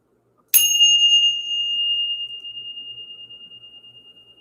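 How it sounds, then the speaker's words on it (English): A single bell is struck once to clear energy at the start of a spiritual reading, leaving a bright, clear ringing tone that sustains and slowly fades over several seconds, heard alone without talk. "We're going to ring the bell."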